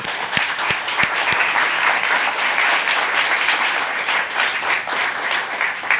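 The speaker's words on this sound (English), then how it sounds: "A big round of applause." A conference audience applauds the panel guests at a climate and development finance session, a steady, dense wash of many hands clapping throughout, with a few sharper claps standing out near the start.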